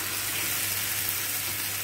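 Onion and mushrooms frying in vegetable oil, a steady close hiss of sizzling fat that stays even and unbroken throughout.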